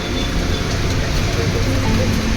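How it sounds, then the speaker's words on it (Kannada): Heavy rain pours steadily outdoors at a Jagannath temple in Bengaluru, a dense continuous hiss with low rumble that stays loud and even throughout, with no voices. "ಮಳೆ ಬೇರೆ ಜೋರಾಗಿ ಹೋಯ್ತೈತೆ"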